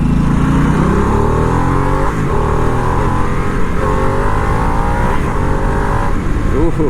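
A Harley-Davidson Nightster motorcycle with the smaller Revolution Max engine is ridden, a loud continuous engine drone whose pitch climbs and shifts as it revs through the gears.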